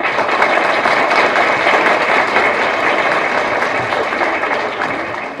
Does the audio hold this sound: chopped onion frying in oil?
no